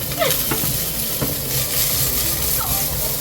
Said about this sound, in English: I'm frying these off.